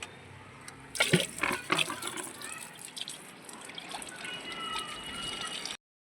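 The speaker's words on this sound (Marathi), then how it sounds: "मग काय आपण पूर्ण गच्चीवर कलरचं पाणी मारून घेतलं" Steady watery hiss of coloured water spraying across a rooftop terrace, with a few louder splashing bursts near the start, continuing evenly until it stops abruptly.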